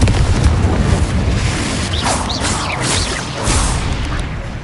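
Roaring magical blast from the Confringo spell in the video game Hogwarts Legacy, a loud sustained rumbling explosion with crackling debris and whooshing effects, close and dense throughout.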